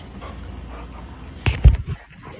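Dogs pant softly and steadily, then a short burst of louder whimpers and yips breaks in near the end, close and without talk.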